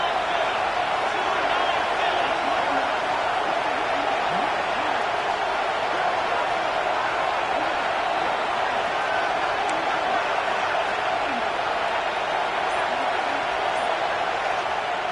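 A packed football stadium crowd roars on third-and-goal during a timeout, a dense, sustained, loud wall of cheering and noise with announcers talking over it.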